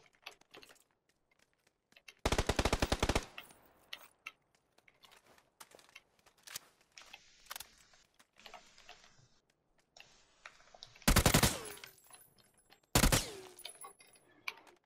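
Automatic gunfire in PUBG on the Sanhok map played on PlayStation: loud, close bursts of rapid shots separated by quieter stretches of faint game clicks and distant sounds.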